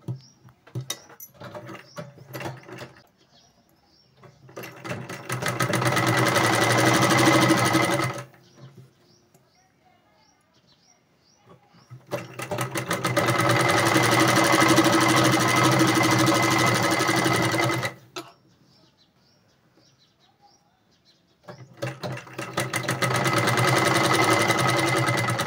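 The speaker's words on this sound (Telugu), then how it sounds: "ఆ వైపున డబల్ ఫోల్డింగ్ వేసుకొని ఈ విధంగా ఒక కుట్టు వేసుకోవాలి" A sewing machine stitches a double-folded seam on a Rapunzel-style sleeve in three long steady runs, separated by quiet pauses with faint handling of fabric.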